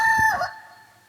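A storyteller mimics a rooster's crow with his voice, one short loud call that rises and then trails off.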